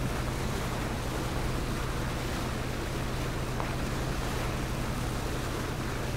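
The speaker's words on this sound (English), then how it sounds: "Your boat to our left." In the video game PUBG, a boat's motor drones steadily on open water under a constant wash of water and wind noise, with no pauses.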